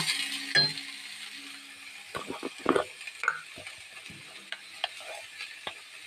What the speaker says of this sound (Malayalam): ഇതിലേക്ക് ഇനി പാലക്ക് ഇടുക. പാലക്കിട്ട് ഇളക്കുക.